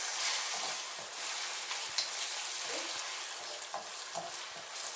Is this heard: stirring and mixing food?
yes